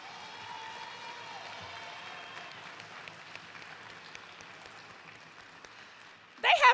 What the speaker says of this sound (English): Give a round of applause for the survivors behind me.